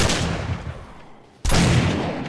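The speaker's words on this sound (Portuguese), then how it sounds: "Essa pistola aqui, eu não sei se eu que regulei, mas ela tá dando um tiro só aqui" Pistol fire in the survival game 7 Days to Die, loud broadband blasts filling the clip with a brief dip before a sharp second shot near the end, no talking.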